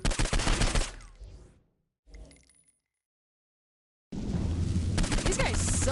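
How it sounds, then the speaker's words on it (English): Flaming-bullet gunfire in the video game Saints Row 4: dense rapid bursts of shots, then a near-silent gap with a faint short rattle, then another loud sustained volley. "What's my new power? Fire. Particularly flaming bullets."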